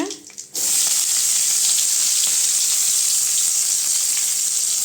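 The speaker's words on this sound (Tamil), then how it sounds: "வடச்சட்டி சூடானதை எண்ணெய் ஊற்றிக்கிட்டேங்க இப்போ பட்டை கிராம்பெலாம் போட்டுடலாம் வெங்காயம் சேர்த்துக்கலாங்க" Cinnamon, cloves and onion fry in hot oil in a kadai, a steady loud sizzle that starts abruptly after a brief quiet moment and holds evenly to the end, with no talking.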